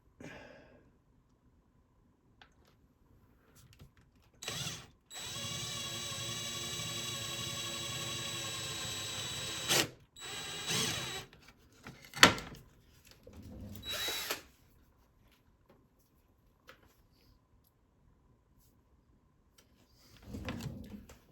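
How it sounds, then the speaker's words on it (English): A power drill bores a hole with a drill bit into a marked divot, a few short whirring bursts separated by quiet gaps and some handling knocks. "divot going so my drill bit won't wander when I do this"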